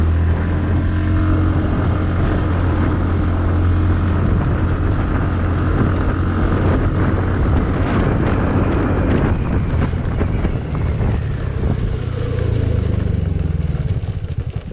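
A TVS Ntorq 125 scooter, Super Squad edition, is ridden hard during a power test, its engine drone buried under constant loud wind buffeting on the microphone.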